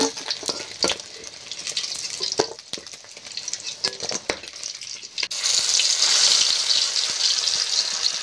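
Whole river fish fry in hot oil in a kadai, giving a dense, crackling sizzle with scattered pops. Near the end a louder, steadier hiss takes over.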